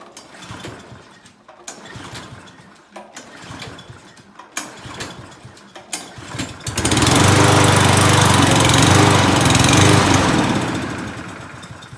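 A push lawn mower running on treated gas for winter storage: a few pull-start attempts and sputters, then the small engine catches at about seven seconds and runs loudly and steadily close by, tapering slightly at the end.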